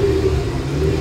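A Ford RS200 car engine runs at a classic car event, a brief steady close rumble and drone with no clear rev rise.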